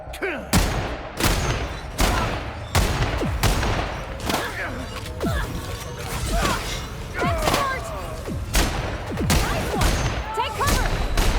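Gunfire in The Outer Worlds: a loud firefight of sharp, repeated shots, some in quick bursts, spaced unevenly over the whole stretch, with voices shouting amid the shooting.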